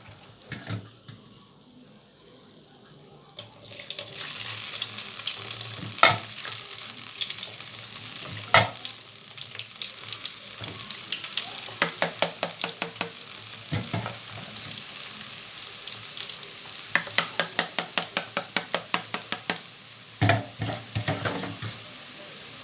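Boondi batter drops into hot oil for a special mixture snack, a loud continuous sizzle of deep frying that swells after a quiet start, with repeated scraping and stirring strokes from a ladle running through it.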